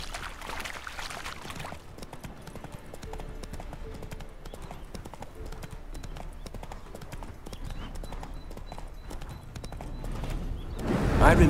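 Roach the horse trots along in The Witcher 3, hooves clip-clopping in a steady, quick rhythm throughout, close and clear, with a brief spoken line at the start.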